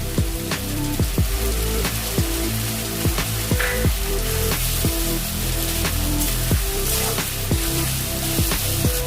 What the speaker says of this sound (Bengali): তারপর আমি এর মধ্যে দিয়ে দেবো পেস্ট করে রাখা পেঁয়াজ